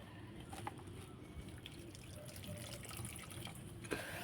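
Water poured onto potted plants in hot weather, giving a steady close splashing and trickling stream with a few small drips and splats across the few seconds.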